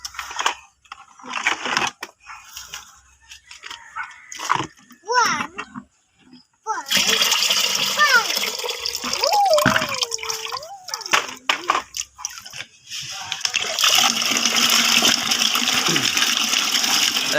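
Water sloshes and splashes into a container of pounded chili insecticide mix, a loud continuous pour running over several seconds after bursts of nearby speech.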